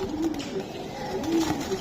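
White Budapest pigeon giving soft, low coos, a couple of short calls over steady background noise.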